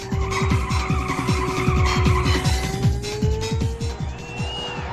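Tires screech and skid hard through a corner in a 1990s arcade racing video game, with repeated rhythmic squeals over a roaring engine and a rising synth tone, loud and continuous.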